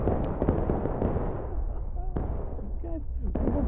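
Distant musket and artillery fire rumbles through a Civil War battle in War of Rights, with scattered sharp cracks over a dense, continuous roar and several voices talking and shouting nearby.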